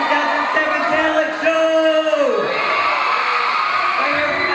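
A school talent show audience cheers and whoops loudly throughout, with crowd noise, yells and a musical tone gliding down near the middle under a steady roar.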